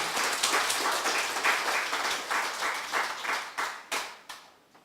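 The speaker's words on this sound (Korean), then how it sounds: "우리 하나님 앞에 영광의 박수를 드리겠습니다." Korean Sunday morning congregation clapping in worship, brisk applause that thins into scattered separate claps before fading out.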